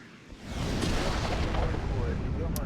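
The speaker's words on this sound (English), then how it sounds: "artillery fire mission" Artillery fire rumbles in a military video game as a loud, continuous roar of booms and blasts lasting a couple of seconds, with a voice speaking over it.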